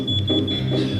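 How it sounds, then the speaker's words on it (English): A smoke alarm sounds a sustained, loud electronic tone that holds steadily through the short moment and carries faint underlying room noise, demonstrated indoors during a city council meeting. "You hear a beep. It wakes you from your sleep and warns you of emergency."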